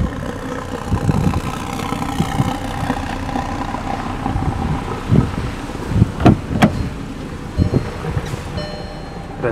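A 2014 Volkswagen Jetta S with a 5-speed manual idles steadily at a dealership in Lakewood, Colorado, a low continuous engine hum with a few sharp clicks and knocks breaking through near the end.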